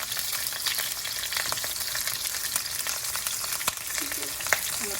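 A steady, close sizzle of Thai chili peppers sautéing in a pan for stir-fried cabbage, with scattered snapping pops and light stirring scrapes throughout.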